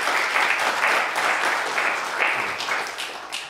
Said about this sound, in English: Can I get a round of applause for everybody who's gone so far?